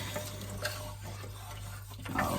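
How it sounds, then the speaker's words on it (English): Chopped tomatoes and chickpeas get stirred in a crockpot for a chickpea and spinach curry, soft wet scraping and sloshing over a constant low electrical hum, close and fairly quiet. "Just give that a bit of a stir."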